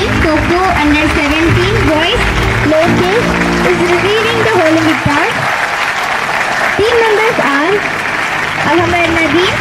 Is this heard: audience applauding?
yes